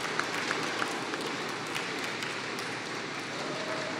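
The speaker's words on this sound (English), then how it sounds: "Can we please have a round of applause for both of these players?" An audience applauds the players after a Quake Champions esports match at the ESL Italian Open, a steady wash of clapping at moderate level with a few sharper individual claps near the start.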